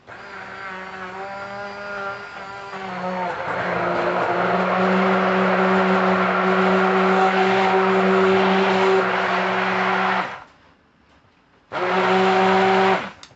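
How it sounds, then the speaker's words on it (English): Blender breaking up oils and unmelted shea butter for a natural spiced soap, a loud, close motor roar running steadily for about ten seconds, cutting out briefly, then whirring back on. "right now I'm just blending my oils and my shea butter, just kind of break up the shea butter because I didn't melt it"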